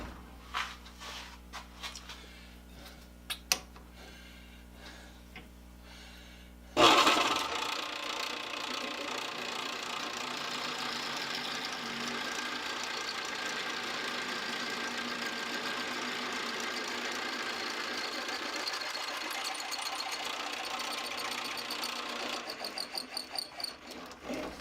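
A lathe runs steadily after switching on, a broad continuous whirring hum that starts abruptly and holds at an even level for the rest of the stretch, with some earlier clatter and handling noises before it kicks in.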